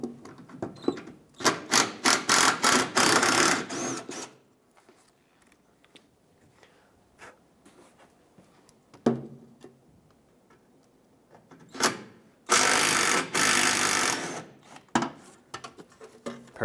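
A tool whirs and clicks in two loud bursts while it removes a pair of 8mm bolts from the front of the fender liner on a 2008-2010 Ford F-250 Super Duty, with quieter handling sounds between them.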